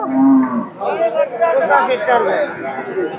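Cattle at a cattle market where bull calves suited for rearing are on sale give a loud, close moo at the start, followed by lowing and background chatter from a crowd.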